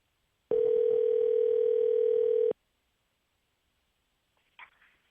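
A phone line gives a steady two-second dial tone, loud and clean, and then goes silent before a faint brief click near the end. No one speaks.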